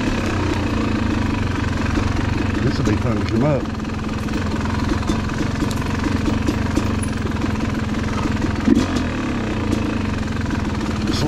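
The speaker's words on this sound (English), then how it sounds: "This engine running." An engine chugs in a rapid, steady rhythm during an off-road trail ride, running loud and close throughout while people talk over it.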